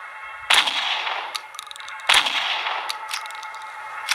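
Two loud, sharp gunshots ring out about a second and a half apart in a horror video game, each followed by a brief echoing tail.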